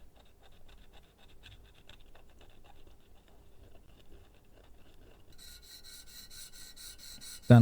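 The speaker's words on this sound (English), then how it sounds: "Using a small diamond file here. Just scraping the surface." A small diamond file scrapes across the surface of an Omega Seamaster watch dial in faint, close, rapid scratching strokes, ending in a sudden louder knock.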